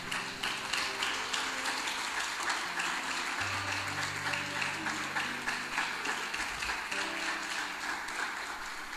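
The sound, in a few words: church congregation applauding for Jesus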